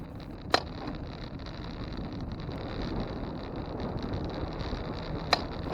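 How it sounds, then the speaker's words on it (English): Strong wind roars steadily against the microphone on the outskirts of a town on Mackinac Island, with two flags flapping and cracking nearby and a couple of sharp snaps standing out. "As you can probably tell from the sound of the wind and those two flags whipping around."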